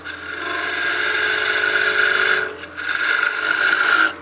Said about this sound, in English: we'll go to our parting tool, and I'm just going to part down some of this material so we can start shaping the head